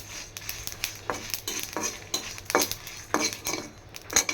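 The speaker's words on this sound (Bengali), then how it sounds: "আর পাঁচফোড়ন একসাথে একটু ভেজে" Panch phoron spices fry in a pan with a light sizzle, stirred with a utensil that clicks and scrapes against the metal in irregular, fairly faint strokes.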